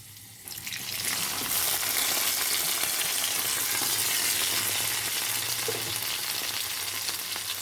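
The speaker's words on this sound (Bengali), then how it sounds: "ভালো করে ফ্রাই করে নেব" Capsicum frying in a pan makes a loud, steady sizzle that swells in within the first second and holds hissing evenly to the end, with no voices.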